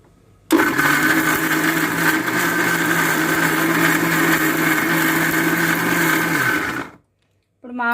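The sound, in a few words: mixer grinder grinding coconut mango chutney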